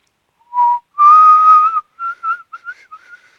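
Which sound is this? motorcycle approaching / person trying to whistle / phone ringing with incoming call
person trying to whistle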